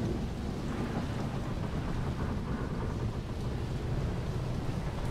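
Steady heavy rain and rolling thunder in The Evil Within, a dense, continuous wash of downpour over a deep, sustained rumble, loud and constant with no voices.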